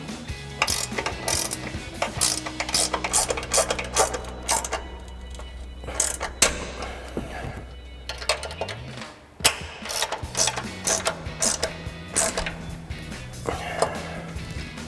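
A 14mm ratcheting wrench clicks in quick bursts while tightening the upper strut mounting nuts on the front coil-overs of a 2015-2025 Ford F-150, the dense pawl ticking close and loud with brief pauses between strokes.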